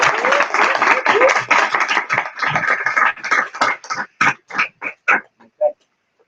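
Clapping at a meeting starts as a loud, dense burst from a group, then thins to a handful of separate claps that die out, with a few short vocal sounds.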